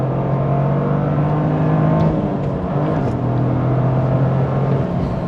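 A turbocharged Toyota GR Corolla accelerates through lower gears, a loud close engine drone rising in pitch, dropping at a shift, then climbing again, with a whirring edge and occasional sharp bark.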